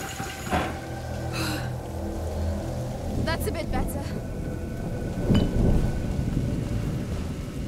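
Thunderstorm with heavy rain in the video game A Plague Tale: Innocence, a steady roaring downpour with rumbling thunder swells, with game voices talking over it.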